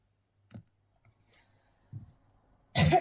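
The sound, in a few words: cough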